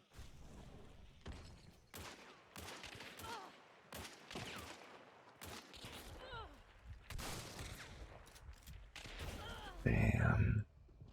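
Gunfire in the video game Hunt: Showdown comes as a series of sharp irregular shots and bursts, fairly faint overall, with a louder low rumble toward the end.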